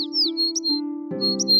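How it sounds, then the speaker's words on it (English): A snow-white pigeon calls in a garden with short, sweet chirping notes over a steady musical hum, clear and close, with no talk over it. "she would talk to a snow-white pigeon"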